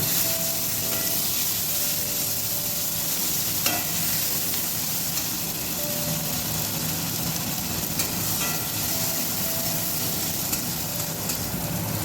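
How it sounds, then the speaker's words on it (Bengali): Radhuni seeds, black cumin, green chilli and tomato sizzle steadily in hot oil for a tempering, a loud continuous frying hiss with occasional stirring clatter and no talk. "রাঁধুনি আর কালো জিরে ফোড়ন দিলাম, কাঁচা লঙ্কা দিয়ে দিলাম, টমেটো দিচ্ছি"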